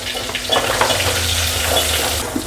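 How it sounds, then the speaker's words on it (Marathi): Green chillies and a pinch of turmeric stirred in a hot pan, with a continuous sizzle and scraping stir strokes that sound close and fairly loud, and no voices. "हिरवी मिरची मिक्स करून घेते।"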